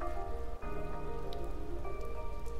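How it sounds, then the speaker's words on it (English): Steady, dense rain patters on surfaces in the video game Blue Reflection, a constant close hiss of drops layered over a quiet sustained musical drone, with no talking. "And it's raining."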